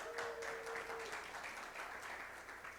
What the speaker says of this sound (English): Round of applause, please, for our graduates again.